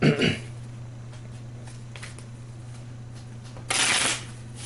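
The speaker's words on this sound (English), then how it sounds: "So let's shuffle this." A deck of cards for the Sentinels of the Multiverse tabletop game is shuffled close to the mic in two quick riffling bursts, one at the start and one near the end, over a steady low hum.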